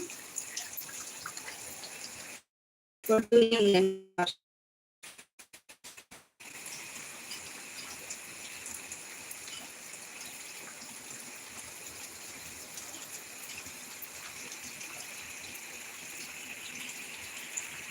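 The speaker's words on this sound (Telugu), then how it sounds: "వర్షం ఆగలేదు ఇంకా" Steady rain falls in a village during a thunderstorm as a constant wash of hiss and patter. It breaks off briefly once near the start and then carries on evenly, with no voices.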